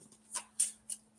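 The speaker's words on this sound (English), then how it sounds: "I'll give it 3 more shuffles." A deck of tarot cards being shuffled on a table, four quick riffling bursts at a steady pace with short gaps between them, close and crisp over a faint steady hum, no voices.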